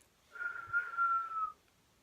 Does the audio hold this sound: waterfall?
no